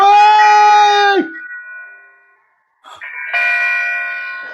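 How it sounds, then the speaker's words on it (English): A staged alarm bell for a theater rehearsal rings as a sustained electronic tone that fades out, a short silence, then a second ringing burst starts and slowly decays, with no voices over it. "Ring the alarm bell!"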